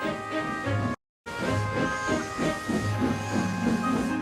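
An animated steam engine in the game Sodor Online puffs rhythmically under a constant loud hiss of steam, broken by a brief silence, then chugging on.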